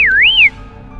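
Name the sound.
whistling sound effect in a story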